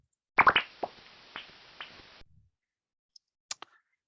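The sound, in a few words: pekapeka bat social calls in the roost via bat detector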